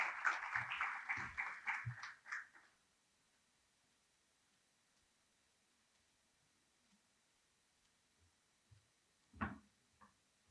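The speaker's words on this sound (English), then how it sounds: "A round of applause for Prof. Mraudzi." Applause from an audience at a budget breakfast event rings out loud for about two seconds, then fades into near silence broken by a few faint knocks.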